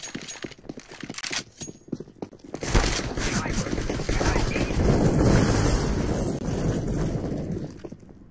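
A decoy grenade in Counter-Strike mimics gunfire, a dense, loud burst of rapid rifle-like shots that starts abruptly and runs on, with game sounds and voices mixed in.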